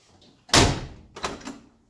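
The door of a 1967-72 Chevrolet C/K pickup truck shuts with one solid metallic thunk, then gives a softer rattling clunk and latch click a moment later, close and loud.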